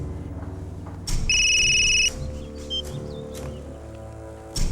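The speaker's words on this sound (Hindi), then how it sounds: "किसका फोन था" A single loud electronic telephone ring cuts in abruptly for about a second, then stops, followed by quieter tonal chirps over a low hum in a drama scene.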